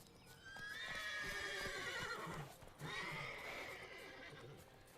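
A horse in The Witcher 3 neighs loudly twice, with clip-clopping hooves beneath, the whinnies prominent and close against game background ambience.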